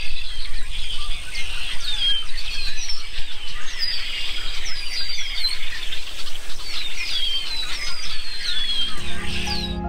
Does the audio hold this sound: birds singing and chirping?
yes